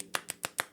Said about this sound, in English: applauding with one arm sounds like this